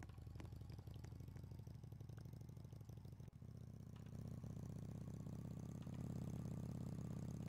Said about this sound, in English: The motorcycle's so slow that it's bad in this game.